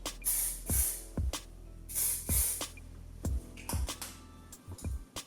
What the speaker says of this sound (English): my Air Flash, which I'm going to spray all over my face so I can set all those fine powders